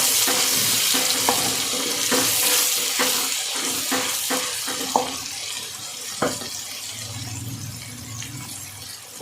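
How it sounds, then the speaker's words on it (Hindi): Water splashes into a pan of frying masala spiced with turmeric for chicken Afghani karahi, a hissing sizzle with scattered clicks and stirring knocks that settles into a softer bubbling simmer. "साथ शामिल करेंगे थोड़ा सा पानी।"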